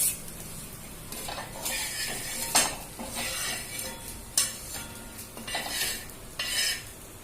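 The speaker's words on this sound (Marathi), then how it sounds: "मच्छी तयार आहे आपण आता प्लेटमध्ये काढून घेऊ" Fried surmai fish lifted from a pan onto a plate, with scraping utensil strokes and metallic clinks against the pan over a low background sizzle.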